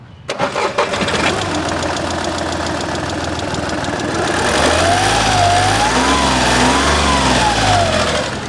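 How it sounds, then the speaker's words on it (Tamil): Diesel engine of a 2013 Highline top-end car starts up and settles into a steady, rough running rumble, heard close and loud, with a faint wavering whistle-like tone joining partway through. "இப்போ இன்ஜினோட நாய்ஸாக லைவாக காமிக்கிறேன்"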